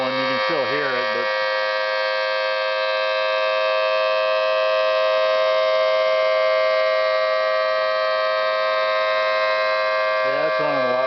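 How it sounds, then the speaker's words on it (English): A steady, loud droning whine from a Mini Thunderbolt 120-volt electric siren blower running continuously, with brief wavering pitch sweeps near the start and end. "This blower is not nearly as loud as that other one."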